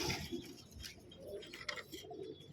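Pigeons cooing in a loft where the birds sit on gravel, soft repeated coos near and far mixed with faint rustling, no talking.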